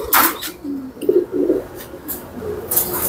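Silver pigeons cooing in a loft among a flock of about twenty to twenty-five birds, a few soft low coos and brief calls close by, mixed with rustling and wing flutters.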